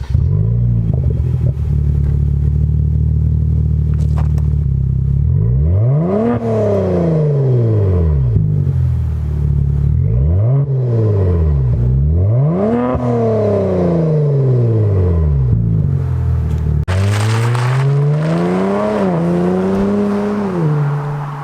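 A slightly modified 2018 Kia Stinger GT AWD engine accelerates repeatedly while driving, pitch climbing and dropping through several gear-like sweeps, loud and close, with a rattly rumble underneath and no talking.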